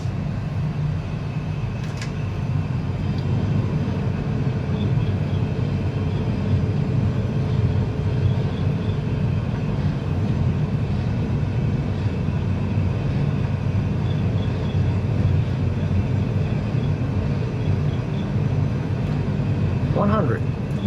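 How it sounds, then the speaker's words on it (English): Airbus A320 engines spooling at takeoff thrust on the runway, a steady loud low roar filling the whole stretch without letup. "And takeoff thrust is set, sir."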